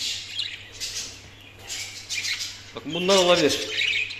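Birds in an aviary pen squawk and chirp nearby in short bursts, with one louder harsh call near the end, while someone speaks over them.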